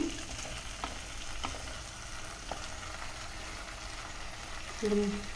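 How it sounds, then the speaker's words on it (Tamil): Onions and tomatoes sauté in a pan for pepper chicken roast, giving a steady low sizzle with occasional scrapes of a spoon and a brief louder stir near the end. "நல்லா வதக்கி விட்டுக்கோங்க இந்த அளவுக்கு வெங்காயம் தக்காளி வதங்கினதுக்கப்புறம் சிக்கன் போட்டுக்கலாம்"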